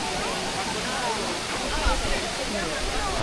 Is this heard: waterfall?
yes